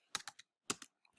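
Quiet, close typing on a computer keyboard: a few irregular clusters of crisp key clicks with short pauses between bursts, no talk.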